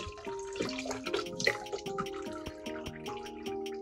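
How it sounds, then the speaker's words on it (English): Water poured out of a Fluval 407 canister filter into a sink, with splashing, dripping and trickling plus bright clinks from the filter parts, close and fairly quiet. "we're gonna dump the water out of our filter"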